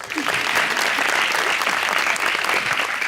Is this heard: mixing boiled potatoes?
no